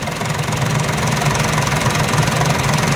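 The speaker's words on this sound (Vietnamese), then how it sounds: "Rồi máy đã chạy luôn nha mọi người." A John Deere 3040 tractor with a six-cylinder engine runs loud and close, a steady, heavy rumbling drone with a rapid knocking pulse and no break throughout.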